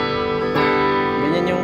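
A Beta Aivin GT112 guitar amplifier on its blue clean channel rings out a sustained, bright guitar chord that swells slightly partway through and holds steady, alone and close.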